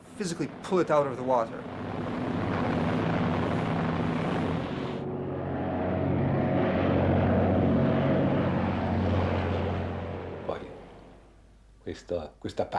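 A seaplane's propeller engine roars steadily as it takes off from the water, rising and holding loud for several seconds before cutting off abruptly, with talk briefly before and after.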